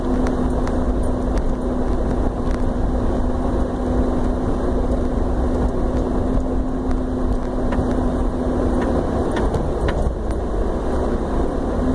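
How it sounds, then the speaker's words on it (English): An off-road vehicle engine revving around 1800 RPM in high range while climbing a dirt road on Geology Tour Road in Joshua Tree National Park, a loud, constant drone mixed with wind and rumble, with no speech. "My engine is revving at about 1800 RPM"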